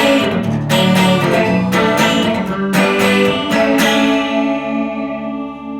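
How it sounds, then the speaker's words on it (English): Electric guitar chords ring through a chorus pedal effect, loud and shimmering, with several strummed attacks sustaining into one another before the final chord fades out. "we add this chorus onto the chorus"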